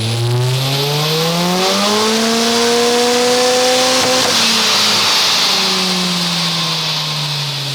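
Nissan S15 Silvia with an SR turbo four-cylinder revving hard on a dyno, a loud, close engine climbing steadily in pitch through a long pull, then easing off and dropping back down, no talking.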